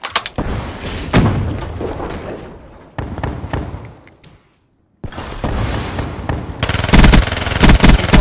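Rapid automatic gunfire and booming grenade blasts in a first-person shooter video game, loud and dense, with a brief near-silent gap midway before heavy firing resumes.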